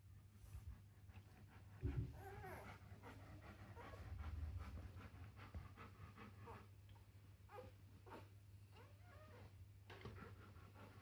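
A dog in labour pants in quick, steady rhythm during contractions, close by, with a low constant hum underneath and occasional rustling.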